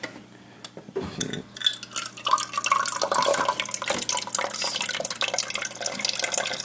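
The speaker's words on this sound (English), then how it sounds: "today we're going to fix the water dispenser here in the refrigerator because the water is coming" Water runs from a GE refrigerator dispenser with slow flow, a trickling, splashing stream that builds after a quiet start and continues steadily, close by.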